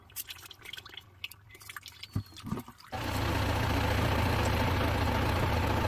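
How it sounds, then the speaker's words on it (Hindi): A Same Deutz-Fahr tractor engine idles steadily while its oil drains; after a few seconds of faint dripping and clatter, the loud, even engine drone starts and holds to the end. "ट्रैक्टर को स्टार्ट कर दिया तो क्या है, पूरी तरह से ऑयल घूम के पूरा ड्रेनेज में आ रहा है।"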